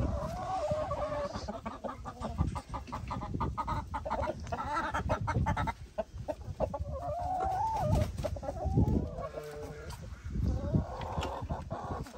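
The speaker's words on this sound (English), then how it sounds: "let's go feed it to the chickens and see what they think" Many backyard chickens cluck and squawk nearby in a busy, continuous chorus while being fed, with occasional louder calls rising above the flock.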